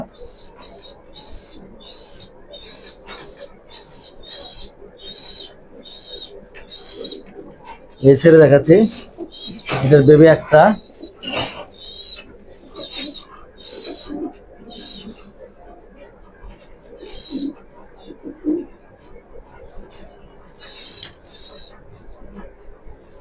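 Pigeons of a fancy breed, adults with a chick, cooing repeatedly throughout at close range, with bursts of wing flapping or handling in the middle and someone talking at moments.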